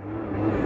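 A small scooter engine revs up quickly for a wheelie, its whine rising in pitch over a brief moment, close and loud.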